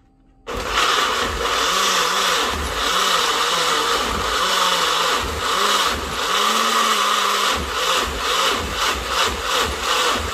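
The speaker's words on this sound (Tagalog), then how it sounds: "Ready na natin siya i-blender." Electric blender whirring loudly up close as it purees a lechon manok chicken marinade, its motor pitch dipping and rising in repeated pulses after a sudden start.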